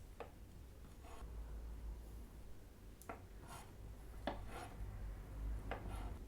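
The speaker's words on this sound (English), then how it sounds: "I'm just going to use a bread knife to cut off the excess" A serrated bread knife saws through cake layers, trimming off the excess, in soft, faint scraping strokes with short rasping bursts and quiet gaps between them.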